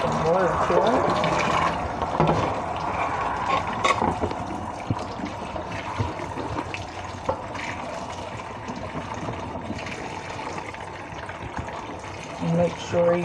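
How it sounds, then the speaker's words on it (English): Water pours and splashes continuously into a crockpot of beans for taco soup, a sustained gurgling rush with clattering moments and some background noise throughout. "Now we're going to put some water to it."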